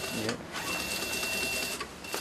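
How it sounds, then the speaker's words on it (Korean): A sewing machine stitches a luxury bag in a small repair shop, a fast, steady mechanical whirring and clatter at close range, with brief pauses. "바늘 담수가 중요한 명품은 재봉틀을 사용하지만"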